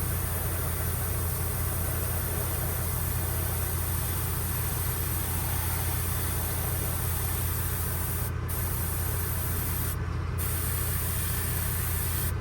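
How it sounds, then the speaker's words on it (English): Paint hisses steadily from a spray can or airbrush onto a hand-painted bass fishing lure, a close, continuous spray that runs unbroken for twelve seconds with two very short pauses near the end. "Notice I'm spraying in the direction like this so I don't get a lot of blowback."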